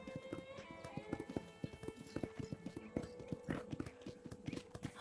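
Horse hooves clip-clop at a ranch corral in the Red Dead Redemption video game, a close, steady rhythmic patter of hoofbeats running throughout over a sustained tonal background.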